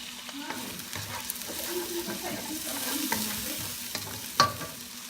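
Garlic frying in a pan for frog legs adobo, a steady low sizzle with soft stirring scrapes throughout and one sharper clink near the end.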